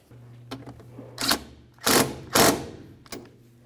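A ratchet tightens the nut on the windshield wiper linkage of a 2010–2013 Ford Transit Connect, giving a few rapid close clicking bursts separated by short pauses over a low steady hum.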